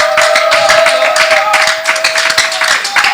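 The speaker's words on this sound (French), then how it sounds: "Mesdames et messieurs, sous vos acclamations" A church crowd claps steadily and energetically, welcoming pastors, a dense patter of hands with a sustained musical tone running underneath.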